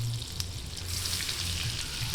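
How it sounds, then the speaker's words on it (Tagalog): Steady sizzling and frying of tofu sautéing in a hot pan, a continuous crackling hiss with light bubbling and occasional stirring taps, close and moderately loud. "Ngayon, nag-iimpisahan na po natin yung paggigisa."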